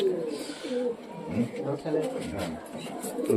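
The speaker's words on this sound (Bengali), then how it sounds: "এটা কি কবুতর এটা পাকিস্তানি কবুতর" Pakistani cross-bred pigeons coo in low rolling repeated phrases close by, with people talking over them.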